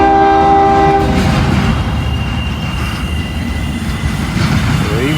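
A CSX freight train rolls past close by, its horn blaring loudly at the start before giving way to a steady heavy rumble of wheels and wagons with faint squeals.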